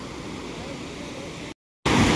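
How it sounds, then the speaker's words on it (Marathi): Parola waterfall in Hingoli gives a steady, dense rushing roar of falling water that cuts to silence for a moment, then returns even louder and closer. "असा आहे बघा इथला आमचा पारोळ्याचा धबधबा."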